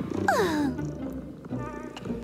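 A cartoon cat gives a clear, rising-then-falling meow near the start, followed by a softer rumbling purr and a faint second call over a light animated background.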